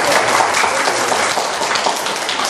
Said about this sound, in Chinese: 来苏教授讲，咱用热烈的掌声。